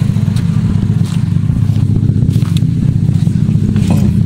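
Honda Civic FD engine running steadily with a low, continuous hum close by, a slight rise then settling back to a normal idle, with faint clicks and clatter on top; no talking.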